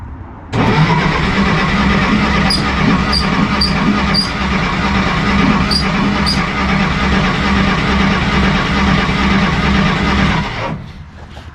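A 1953 Willys Jeep CJ-3B engine catches and fires up with choke on, then runs loudly and steadily at a rough idle for about ten seconds before cutting out.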